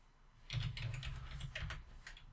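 Typing on a computer keyboard: a short, quiet run of crisp, irregular key clicks heard up close, with no other sounds over them.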